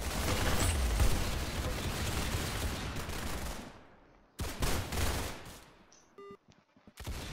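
Rapid gunfire in the Roblox Arsenal game, a sustained burst of fast shots that fades out, followed by a few sharper separate shots and a short electronic beep.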